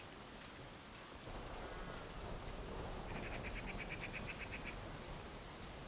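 Rain patters steadily on a roof in the video game Atomfall, a dense, soft wash of drops that thickens after a moment, with brief chirping calls over the top.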